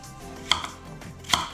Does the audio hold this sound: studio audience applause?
no